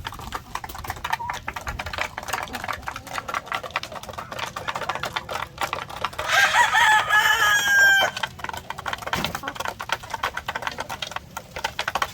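White Leghorn chickens cluck around a farm, with a rooster crowing loudly partway through over constant tapping and scratching noises.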